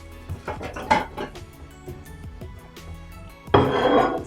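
Plates and cutlery clink and scrape close by in a kitchen, a scatter of light taps and knocks followed by a louder rattling clatter near the end.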